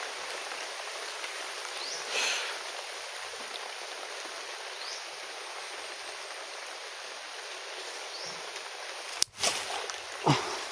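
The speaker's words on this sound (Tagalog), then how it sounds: "At umuulan na, walang hinto ng ulan." Steady rain pours continuously as a dense, even hiss close by, with a few brief knocks and rustles near the end and no talking.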